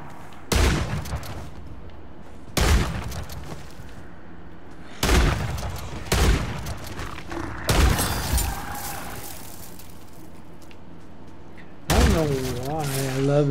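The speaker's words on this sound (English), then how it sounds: "Love this gun. It's a shotgun." A shotgun fires in Call of Duty: Modern Warfare 3 Zombies with six loud, sharp blasts spaced a second or two apart, each trailing off in a short echo, while a voice speaks between shots.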